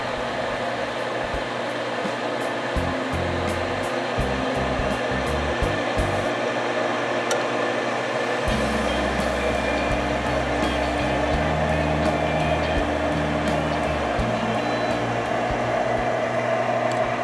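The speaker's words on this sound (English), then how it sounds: "Notice the inducer motor kick in." Draft inducer fan motor on an Armstrong Ultra 90 gas furnace, freshly replaced, running with a steady broadband whir and hum, its low drone shifting in level partway through.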